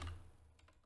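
A few quick, light key clicks from a computer keyboard as a chat message is typed, close by and soft, with no voices.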